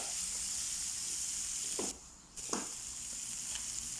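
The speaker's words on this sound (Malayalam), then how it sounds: "അതിലേക്ക് അഞ്ചാറ് വെളുത്തുള്ളി അല്ലിയും കൂടെ ഇടുക അതേപോലെ തന്നെ ഒരു വലിയ സവാളയും കൂടെ ഇട്ട് നല്ല രീതിയിൽ ഇളക്കുക" Garlic cloves and a large onion sizzling in a pan for cauliflower masala, giving a steady close hiss and frying crackle with a brief dip and two short stirring scrapes midway.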